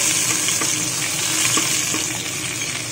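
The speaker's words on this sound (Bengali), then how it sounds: "এখানে তেলটা গরম হয়ে গেছে, আমি এখন দিয়ে দিচ্ছি এখানে সব রকম যে সবজিগুলো কেটে রেখেছিলাম সেই সবজিগুলো।" Chopped vegetables dropped into hot oil in a pan, giving a steady, fairly quiet hiss and crackle of sizzling with small scattered pops and no voices.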